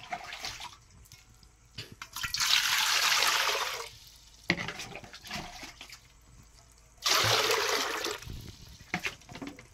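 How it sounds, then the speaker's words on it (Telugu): Water pours into a cooking pot in two long, steady rushing bursts, with clatter and drips between them and no voices. "ఒక గిన్నెలో వాటర్ పోసుకొని"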